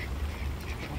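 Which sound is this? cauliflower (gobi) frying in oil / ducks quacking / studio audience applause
ducks quacking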